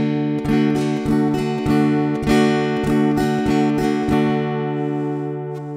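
An acoustic guitar strums a steady quaver rhythm at a brisk pace, the even, ringing chords played close and loud with no counting or voice, then a final chord rings out and fades.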